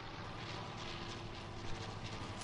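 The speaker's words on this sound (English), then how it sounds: "Oh, look at that. I bet that airplane can just one-shot me." Propeller airplane droning overhead in a video game, a steady broadband engine roar filling the whole stretch without pause.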